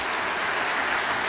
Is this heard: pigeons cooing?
no